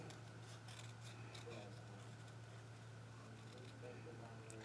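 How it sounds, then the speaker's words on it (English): Scissors fussy cutting paper for a handmade card, a series of close, crisp snips in an irregular rhythm over a quiet room hum. "And then I think I'm going to fussy cut this"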